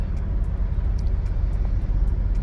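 Mahindra TUV 300 cruising at steady speed on cruise control, a low even road and engine rumble heard from inside the cabin, with faint ticking clicks over it.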